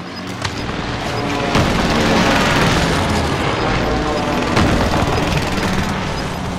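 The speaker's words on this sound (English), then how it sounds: "Allied precision airstrike incoming" Heavy airstrike explosions in Call of Duty: Modern Warfare, a dense barrage of booms and blasts rolling continuously with sharper detonations punching through, loud and close throughout.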